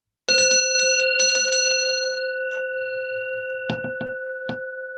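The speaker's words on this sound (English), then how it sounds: "can you listen to the sound of a bell without an opinion?" A meditation bell rings out clearly and close, one bright sustained tone that lingers and slowly fades, with a few brief clatters partway through and no talking.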